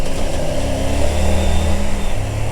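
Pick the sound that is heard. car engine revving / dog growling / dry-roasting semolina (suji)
car engine revving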